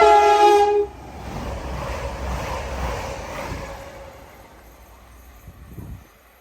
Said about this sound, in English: this is a Voyager coming through